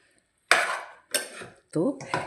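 Leftover Afghani naan is mixed into a dish with a utensil, making four distinct scraping, clinking strokes against the pan, separated by short silences.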